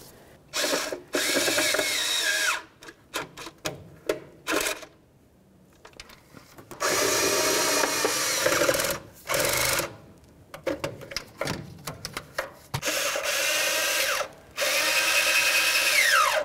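Exhaust manifold bolts are driven snug on a 2004-2015 Nissan Titan with a power ratchet, several loud close bursts of buzzing, clicking rotation separated by short pauses.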